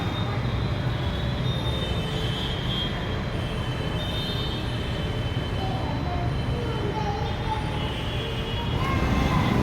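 A Kochi metro train passing below an elevated station: a steady loud rumble of wheels on rails with faint squealing tones, continuous for several seconds and swelling slightly near the end.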